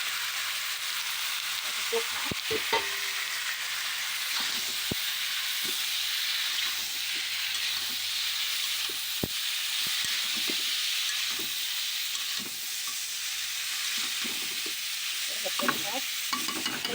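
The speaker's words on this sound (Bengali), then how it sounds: "মরিচ দিয়ে শাক ভাজি করব।" Bottle gourd greens fry with chili in a pan under a steady hissing sizzle. A few sharp clicks and stirring knocks break through now and then, close by.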